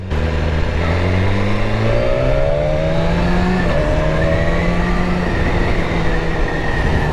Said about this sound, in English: Give them a little rev bump.